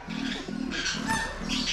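A pigeon coos close by in a repeated low, throaty rhythm of about four soft pulses, clear and alone.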